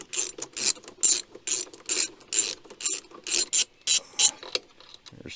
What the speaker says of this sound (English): So we're going to undo these bolts.